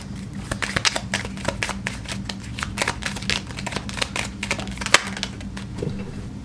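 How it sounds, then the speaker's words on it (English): Tarot cards being shuffled and pulled from a deck, with a rapid run of soft papery flicks and taps at close range and a few sharper snaps. "I'm going to pull a couple more cards just to finish off this little section"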